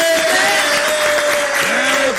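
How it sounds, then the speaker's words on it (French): Studio audience applauding and cheering during a music show, a loud, continuous crowd sound with a sustained tone and voices running over it. "On peut applaudir pour ces pauses."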